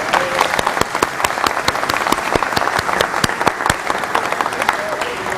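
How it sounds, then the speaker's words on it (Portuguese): An audience claps loudly and steadily, dense overlapping handclaps close by, sustained for several seconds without a pause. "vou dar salva de palmas para você"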